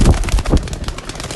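Short bursts of bird sound from an Ali-breed pigeon, two low soft pulses close by with a busy noisy background.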